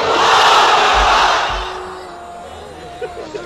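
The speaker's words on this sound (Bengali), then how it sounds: "বিবাহিত ভাইরা পড়েন লিল্লাহি তাকবীর।" A large crowd of married men at an Islamic religious gathering shouts the takbir "Allahu Akbar" in unison, a loud massed roar that swells and then fades, followed by quieter hall ambience.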